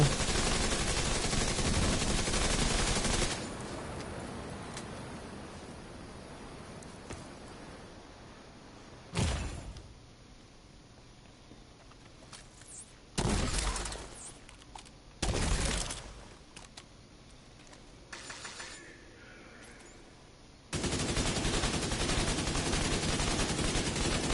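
Automated turret firing in The Division 2: dense rattling bursts of gunfire opening and closing the stretch, with sharp isolated shots and impacts between quieter pauses, loud and close.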